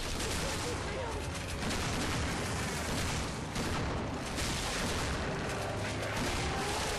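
Gunfire from the survival-horror video game Resident Evil 6, a dense, continuous barrage of shots and blasts filling the whole stretch at steady loudness, with game noise and talk mixed in.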